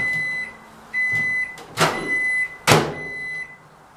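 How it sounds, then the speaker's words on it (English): A microwave oven running, a steady electric hum with a high whine throughout, broken by a few brief mechanical clunks and bursts of louder noise nearby. "Microwave does in fact work."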